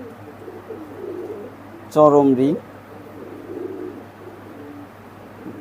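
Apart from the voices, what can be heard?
high flying pigeons cooing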